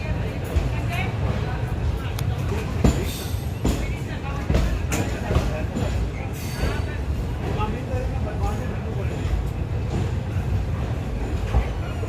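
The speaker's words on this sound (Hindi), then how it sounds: "दोस्तों हमारी ट्रेन ने अपने पहले स्टॉप यानी कि वांकानेर जंक्शन से अपना डिपार्चर ले लिया है" The 19120 Somnath Ahmedabad Intercity Express runs out of Wankaner Junction, heard from inside as a steady rattling rumble with scattered clanks and squeaks, while voices talk over it.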